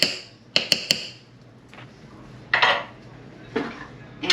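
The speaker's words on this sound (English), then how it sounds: "Let's just give this a nice stir." A spoon clinks and scrapes against a pressure cooker pot while oxtail is stirred, with a quick run of metallic taps followed by two longer, louder scraping strokes.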